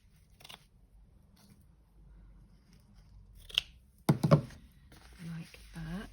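Scissors snip through the petticoat trim on a handmade journal cover topper, a few close, crisp cuts near the end, with some light handling noise before them.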